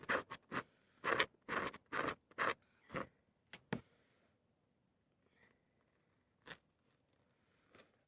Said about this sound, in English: to scratch the surface with something sharp, here the point of my scissors, so that the glue will stick well